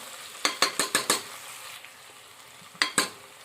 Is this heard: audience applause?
no